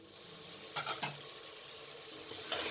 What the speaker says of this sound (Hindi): मसालों के साथ गोश्त को मज़ीद 3 से 4 मिनट तक भून लें